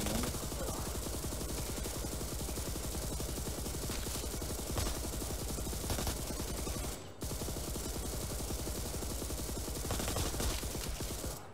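Relentless automatic gunfire in the shooter game Resident Evil RE:VERSE, a dense stream of rapid shots and bursts with a brief pause partway through, loud and unbroken by talk.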